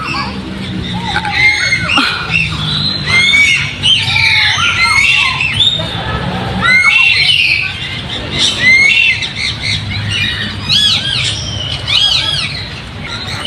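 Rescued birds in cages at a wildlife park in Quezon City squawk and call repeatedly, loud harsh cries overlapping with flapping and rustling, while people talk nearby.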